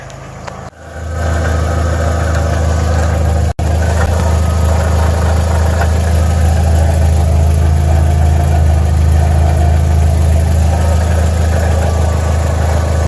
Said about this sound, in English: It also sounds like the rattling noise could be coming from the exhaust